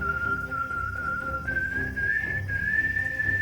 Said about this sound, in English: He whistled again.